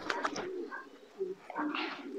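Racing pigeon cooing nearby in a loft, soft low coos repeated in short bursts over about two seconds, with faint rustling and no talk.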